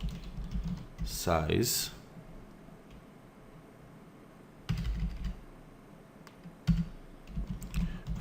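Computer keyboard typing while entering CSS code, soft clicking keystrokes in short bursts with pauses between them, a voice speaking briefly over part of it.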